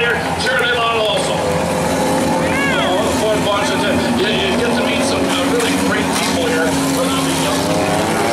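Hornet-class race cars roar around a track at a spectator event, engines droning loudly and continuously throughout with pitch sweeps as cars pass, while crowd chatter and voices mix in underneath.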